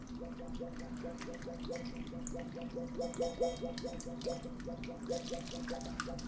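Water is poured into a venison snack-stick meat mix in a steady, continuous trickling and splashing stream, close and moderately quiet, with no talking.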